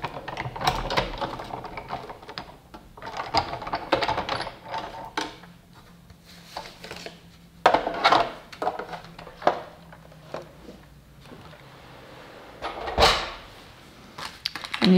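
Sizzix Big Shot die-cutting machine cranked back and forth several times, with close mechanical clicks, grinding gear whirs and rattling bursts in an uneven rhythm.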